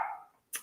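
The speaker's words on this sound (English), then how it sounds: "He's just barking at anything." A dog barks in the background: one short, faint bark near the end, after a brief fading tone.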